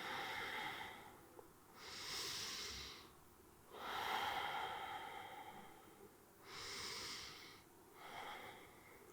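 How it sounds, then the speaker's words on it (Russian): Slow, deep breaths taken during a held yoga forward-weight pose, several long broad airy inhales and exhales in steady rhythm, close and fairly soft, with no talking. "Здесь 3 глубоких дыхания."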